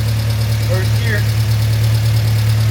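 A B18-engined EF wagon running in first gear on a test drive, its engine giving a loud, steady low drone with a constant hum throughout, close up; a voice speaks briefly over it.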